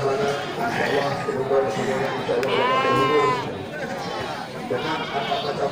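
Goats bleat repeatedly amid a noisy crowd at a goat market in Indonesia, with one drawn-out wavering cry standing out near the middle over steady background chatter.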